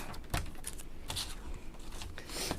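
Cardstock being trimmed down to size for a card blank, a run of quick close scraping strokes of a blade against the paper, steady and fairly loud with no talking.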